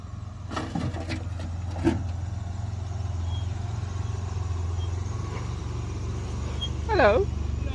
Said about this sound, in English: As you can hear, some of these vehicles as they're crossing over this bottom part, hitting some of the stones and the rocks down the center